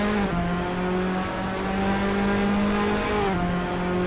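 Formula Alfa race car engine in a racing video game, a steady high-pitched drone holding revs, with a brief dip and rise as it shifts, loud and continuous.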